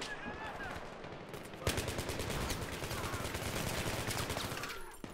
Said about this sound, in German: Jo, die OMP zieht richtig schön durch.